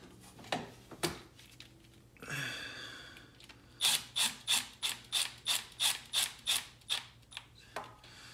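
Ratchet driving a new cam bolt in during an engine timing job, about a dozen quick, evenly spaced clicks in a steady run, with a few clanks before and after.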